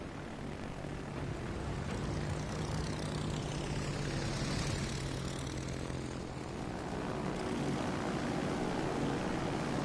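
A carrier plane drones in the video game World of Warships Legends, a steady propeller engine roar that swells and fades slightly over about ten seconds with no speech.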